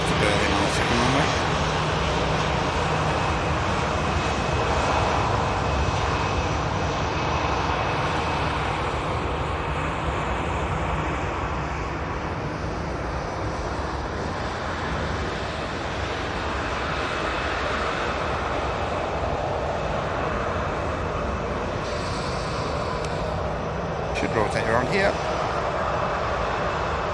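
A Ryanair airliner takes off from the second runway at Manchester Airport, its jet engines holding a steady, loud roar throughout, with wind noise and people talking over it.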